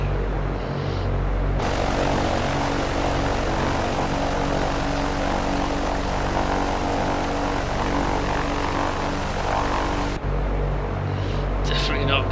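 Steady, loud drone of a light propeller airplane engine in flight, throttled back during a night flight with an engine problem, holding constant through the clip with a brief cockpit-like change at the start and end.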